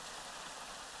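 Rain falls outside in a short, faint, unbroken patter-hiss with no voices over it.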